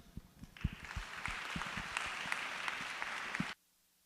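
An audience claps to welcome a speaker at a talk, a steady room-filling applause with sharp individual claps that builds quickly, holds for about three seconds, then stops abruptly.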